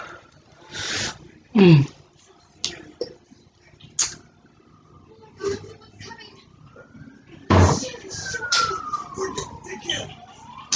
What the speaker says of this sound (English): The ambulance coming for me, y'all.